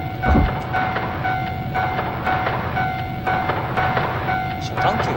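A train rolls past a closed railroad crossing in a Japanese driving-school simulation game, a steady rumbling wagon noise with faint clatter that persists throughout, with a voice briefly speaking over it.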